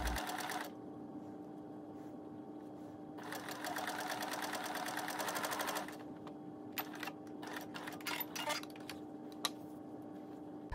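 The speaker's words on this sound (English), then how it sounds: "Use your preferred seam allowance and back tack at the beginning and the end of the seam." A sewing machine stitches a satin scrunchie seam with a steady mechanical whir that runs in bursts, stops and restarts, ending in short ticking taps, close and fairly quiet.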